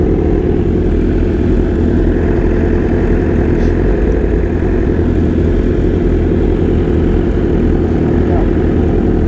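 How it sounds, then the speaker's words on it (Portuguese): Suzuki Shred 1000 motorcycle engine running through an aftermarket Power exhaust, a steady loud low rumble that continues unbroken throughout while people talk nearby. "Escapamento da Power, tá bonito."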